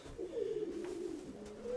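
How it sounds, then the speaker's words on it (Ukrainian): Pigeon cooing softly in one low, rolling, continuous coo, faint and close. "Ось це такий голубок"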